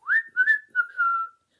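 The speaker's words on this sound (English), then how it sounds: "he heard somebody whistling" Whistling behind a closed door on a high street: a short, clear melodic tune in four phrases, the last one held longest, heard alone without speech.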